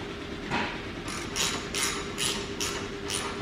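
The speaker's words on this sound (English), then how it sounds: "The first thing I'm going to do, I'm going to tighten this bolt here." A wrench ratchets a bolt tight on an XR3135LS tractor during a rebuild, giving a steady run of about six clicking bursts, close and moderately loud, alone without talk.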